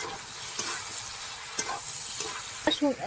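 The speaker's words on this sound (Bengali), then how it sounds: "ভালো করে কষিয়ে নেব। ততক্ষণ এটা তেল না ছাড়ছে আমি ততক্ষণ এটা কষাতে থাকবো।" Chana masala with chili powder and black pepper being stirred in an oil-filled pan, a steady sizzle with a few soft scraping strokes of the spoon, close and alone.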